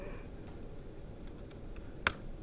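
Typing on a computer keyboard during a programming lecture, with faint soft key taps over a steady room hiss and one sharper click near the end.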